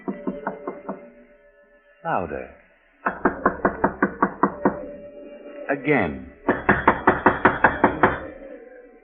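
Loud, rapid knocking on a door in quick bursts of several raps, with short gaps and voices speaking between the rounds.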